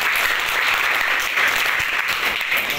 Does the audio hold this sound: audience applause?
yes